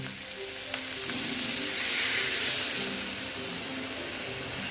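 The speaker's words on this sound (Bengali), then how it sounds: "দেখো এখন আমি এখানে জল অ্যাড করে দিচ্ছি" Water goes into a hot pan of spicy tangra fish curry with potatoes and sets off a broad, steady sizzle that swells and then holds, close and fairly loud, with no voices.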